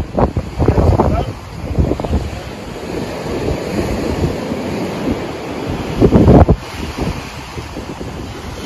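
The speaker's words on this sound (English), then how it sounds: "Those waves are hard out there today." Steady roar of ocean surf with gusting wind buffeting the microphone, a louder wave surge near the end, and faint voices underneath.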